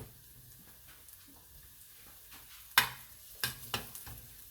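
Garlic browning in a frying pan, a soft steady sizzle with a few sharp spatters and a spoon clinking against the pan near the end.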